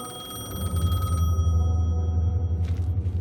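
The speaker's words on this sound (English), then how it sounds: "The payphone was ringing." A payphone rings in the video game Alan Wake 2 with a bright electronic tone over a deep, steady rumble. The ring cuts out partway through, leaving the low drone, and a short burst returns near the end.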